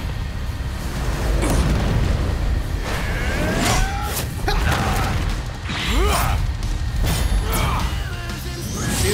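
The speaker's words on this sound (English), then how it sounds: "There goes that meteor." Animated meteor crashing down during a battle between Madara and Aizen: a dense, loud rumbling roar with repeated booming impacts and crashes, sweeping whooshes and chaotic mechanical clatter running continuously throughout.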